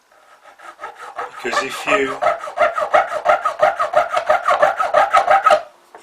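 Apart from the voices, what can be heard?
small file cutting notches in a model part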